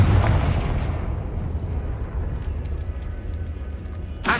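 Confringo fire spell exploding in Hogwarts Legacy inside a tomb: a deep, loud blast that rolls into a sustained low rumble, with a fresh sharp burst right at the end.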